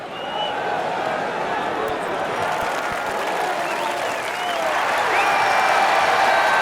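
Golf gallery applauding a putt, steady dense clapping from a large crowd that holds for several seconds and swells slightly toward the end.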